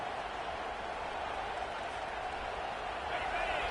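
Steady roar of a stadium crowd at a college football game, a dense continuous wash of cheering with no distinct claps, loud and unbroken throughout.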